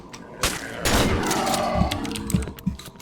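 Rapid bursts of gunfire in the Cry of Fear horror game, loud and dense, with repeated shots and heavy thuds layered over a rumbling backdrop; a player's voice is mixed in.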